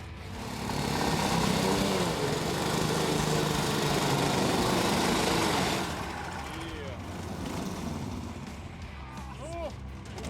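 Tow vehicles in a mass race on a snow track drone with buzzing engines, loud and continuous at first, then lower and more uneven with passing pitch sweeps, while a voice may be heard over parts.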